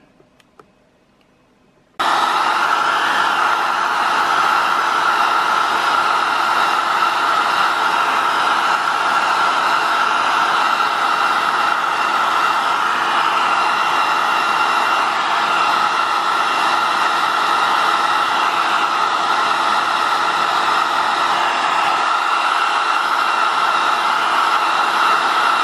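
After a short quiet moment, a heat gun switches on to smooth a PLA 3D print and blows a steady, loud, unbroken hiss of hot air that holds level to the end.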